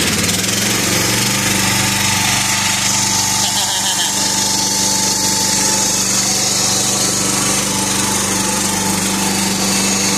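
A 1976 John Deere 300 lawn tractor engine runs steadily while driving, producing a loud, continuous, buzzing drone with strong low harmonics that holds throughout with no talk.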